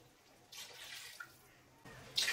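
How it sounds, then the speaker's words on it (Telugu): Water pours into a pot of mutton biryani cooking over a medium flame, a soft steady splash in two brief bursts with a quiet pause between, close and moderately loud. "ఇందులో 250 ml వాటర్ పోసి"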